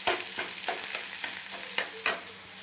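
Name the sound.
vegetables being stirred and fried in a pan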